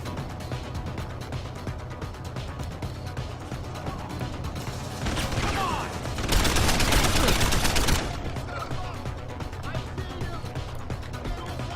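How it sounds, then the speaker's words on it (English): Gunfire rattles through a street in Deus Ex: Human Revolution, rapid shots and a dense burst of automatic fire swelling for a couple of seconds mid-clip, with game ambience and a player speaking around it. "I think those are just the police who are upset that I'm shooting guns in the street."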